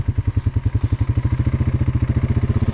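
A Polaris Sportsman 570 four-wheeler descends a downhill trail in four-wheel drive with engine braking, giving a loud, steady, rapid low thumping of the engine pulses, heard close up without talk.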